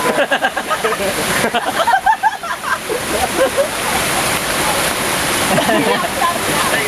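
Water at Strella Falls splashes and pours, with irregular slaps and splatters in the opening seconds giving way to a steadier rushing spray, close and loud, while people talk nearby.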